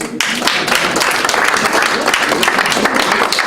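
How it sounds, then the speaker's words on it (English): An audience at an annual general meeting breaks into loud, sustained applause, dense clapping from many people in a room that holds steady throughout. "The rest of you give them an applause."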